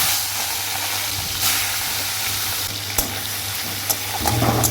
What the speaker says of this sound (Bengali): চিংড়ি মাছটা ভাজা বসিয়ে